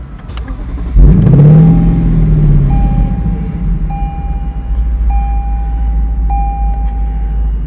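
A Lexus LC500 engine cranks and fires up with a short rev, then settles into a steady idle while a soft chime repeats several times.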